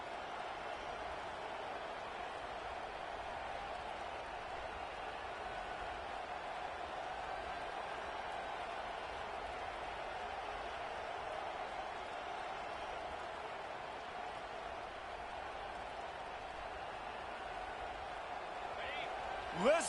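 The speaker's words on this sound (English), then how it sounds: "Listen to this crowd just shaking the girders of this place, trying to help their defense." A packed stadium crowd roars steadily through a football game, a dense, constant wall of cheering for the home defense that holds at an even level throughout, with a short sharp burst at the very end.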